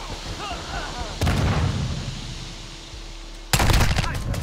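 Submachine gun fire in Call of Duty: Modern Warfare II multiplayer, with loud dense bursts erupting twice, the second closer and sharper, over rumbling game ambience.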